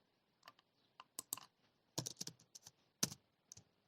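Computer keyboard keys tapped in short irregular bursts of crisp clicks, close and fairly quiet, with no talking, while entering a shift-enter command in a Python pandas data analysis session.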